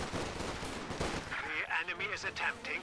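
Gunfire rattles in a Company of Heroes 2 battle with Grenadiers and Assault Engineers, faint bursts sitting underneath someone talking steadily through the whole stretch.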